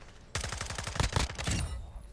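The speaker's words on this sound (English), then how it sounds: "No clue where I was getting shot from." Close, rapid automatic gunfire in Call of Duty Modern Warfare 2, a steady string of punchy shots lasting over a second, sharp and loud without talk over it.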